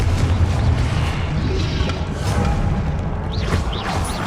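Confringo fire spell blasts booming in the Hogwarts Legacy video game, loud dense explosive bursts with rumbling low end over continuous battle noise, with whooshing swirls near the end.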